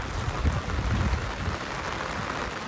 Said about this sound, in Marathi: आज जोरदार पाऊस पडतो कोकणामध्ये